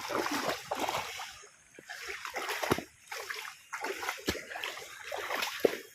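Feet splash through rainwater floodwater around a flooded home in uneven bursts of sloshing and splatter, with pauses between steps.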